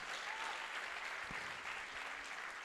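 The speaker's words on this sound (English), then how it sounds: "Somebody clap your hands if you hear what I'm saying." A church congregation claps along during a sermon, a soft, continuous spread of applause heard from a distance at low volume.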